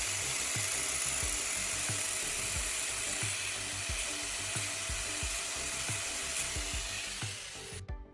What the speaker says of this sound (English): I'm using an angle grinder to carefully cut off the wider threaded portion at the bottom.